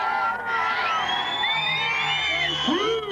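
A crowd at a 1995 GT bicycle air show screams, whoops and cheers loudly in one continuous roar of many overlapping voices with no break.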